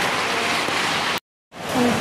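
Steady hiss of rain, continuous and fairly loud, cut off by a short silence before resuming.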